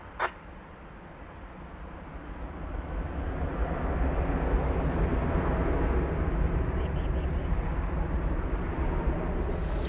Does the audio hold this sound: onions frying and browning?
no